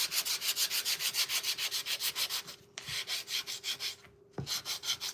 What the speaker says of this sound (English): So I am trying to sand over the top to smooth it out